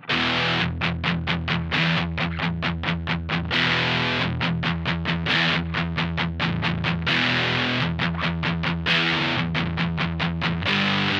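An electric guitar played through an Analog Alien Rumble Seat distortion pedal with the gain cranked: loud, saturated chords and rapid chugging rhythmic bursts, alone without talk.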